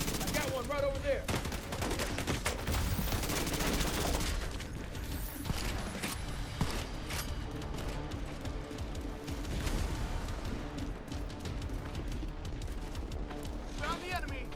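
Dense, loud automatic gunfire from a firefight in The Division against Hunters, continuous bursts and rattling volleys throughout, with voices talking over the shooting.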